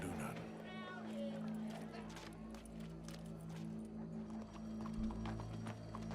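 Horse hooves clip-clop at a steady walking pace in Red Dead Redemption 2, amid a busy ambient background, with indistinct voices and a low hum underneath.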